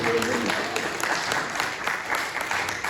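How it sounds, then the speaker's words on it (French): A church congregation claps loudly and steadily at a sermon, a dense, even applause filling the whole moment. "Applaudissez très fort"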